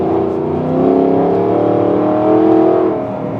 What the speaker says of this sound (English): dropping down a couple of gears and just stepping on it